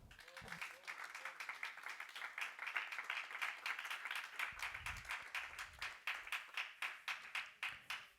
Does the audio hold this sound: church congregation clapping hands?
yes